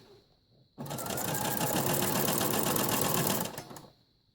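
A sewing machine stitching down the length of a fabric tote bag, a fast steady mechanical whir running for about three seconds close up, starting and stopping abruptly.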